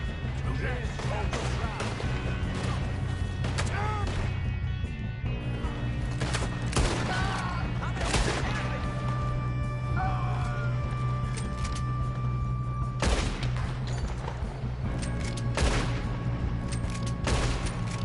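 Scattered gunshots from a Red Dead Redemption 2 shootout, with sharp separate cracks repeating irregularly over a constant rumbling background, mixed with voices talking.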